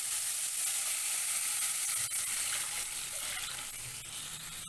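Ingredients for farali pulao sauté in a pan with a steady, close frying sizzle, crackling evenly throughout with occasional light stirring scrapes.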